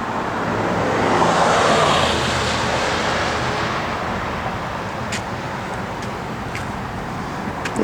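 A 1966 Pontiac LeMans convertible running on the move, its engine a steady broadband drone mixed with road and wind roar that swells early and then holds even, with a few faint clicks near the end.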